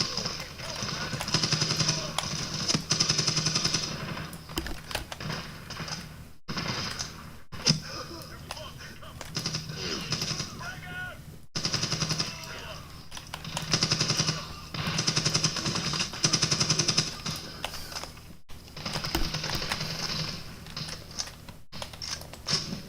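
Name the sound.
gunfire in video game Medal of Honor 2010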